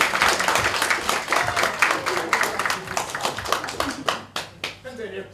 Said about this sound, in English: So, round of applause for Dr.